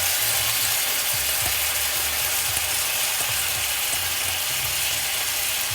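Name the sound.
stirring rice in a hot pan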